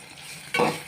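Small shallots and curry leaves hit hot oil already holding golden fenugreek seeds for a fish curry, giving one sudden sharp sizzle burst after near quiet that fades quickly.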